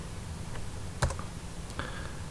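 A computer mouse double-clicks on a disk partition, giving a sharp, close click followed quickly by a second fainter one over quiet room hum.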